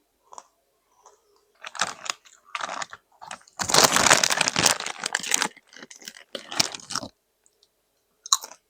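Loud, close crunching of honey butter potato chips being eaten, irregular bites and chewing building to a dense burst of crunches in the middle and then trailing off into scattered crackles.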